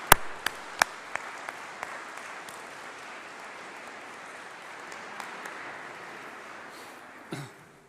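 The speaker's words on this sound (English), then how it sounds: "give those people a huge round of applause as well," A graduation ceremony audience applauds in a large hall, a dense sustained wash of clapping with a few sharp close claps early on that slowly fades toward the end.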